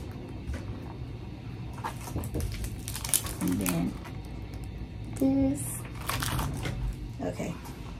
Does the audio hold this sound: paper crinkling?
yes